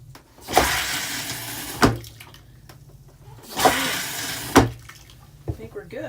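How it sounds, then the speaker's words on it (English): Toilet flushing in a Casita travel trailer during winterizing, two loud whooshing flush bursts a few seconds apart, each with a sharp clunk at the end, heard up close. "So now, go ahead and flush this a few times."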